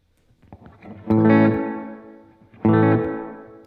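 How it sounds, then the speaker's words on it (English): Electric guitar played through a Strymon Blue Sky pedal on a plate reverb setting: two strummed chords, each ringing out bright and smooth with a lingering shimmering tail before fading. "Now here's what it would sound like if I changed it to a plate reverb."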